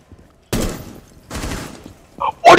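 Video game gunfire in loud, dense bursts: one long volley, a pause, then a second volley, followed by sharper closer shots at the end.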